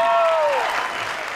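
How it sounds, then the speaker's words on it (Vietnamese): Audience applause at a Vietnamese tân cổ singing competition final, a broad wash of clapping while a sustained sung or held vocal tone fades out at the start, the clapping steady and moderately loud. "một tràng pháo tay thật lớn để chúc mừng Như Ý với phần dự thi vừa rồi"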